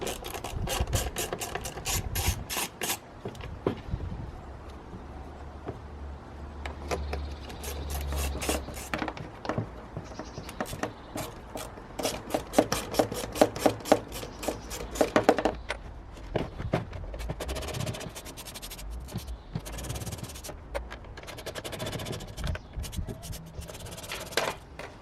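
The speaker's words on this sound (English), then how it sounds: "Just gotta get this airbox apart and find the filter." Plastic airbox on a Fiat Punto being pried and pulled apart by hand, with repeated close rubbing, scraping and clicking of plastic parts, bursts of sharp snaps in the middle, no talking.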